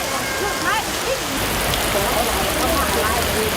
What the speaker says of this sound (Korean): 하늘에서 갑자기 굵은 빗방울이 떨어지기 시작한다.